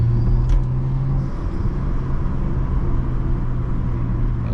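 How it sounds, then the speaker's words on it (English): A BMW F30 sedan's engine hums steadily from inside the cabin. Its tone drops as it downshifts early on, over a constant road rumble, with no talk. "A downshift."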